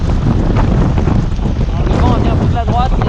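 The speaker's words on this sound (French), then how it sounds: "Le vent vient de la droite mais ça souffle encore." Strong wind of about 30 knots buffets a small offshore racing sailboat on an ocean crossing toward the Canaries, roaring loudly over the microphone alongside sea noise while a voice speaks faintly underneath.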